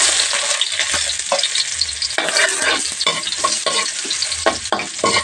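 Plenty of garlic sautéing in hot oil for a vegetable and shrimp stir-fry, loud continuous sizzling close up with repeated spatula scrapes and clacks against the pan throughout.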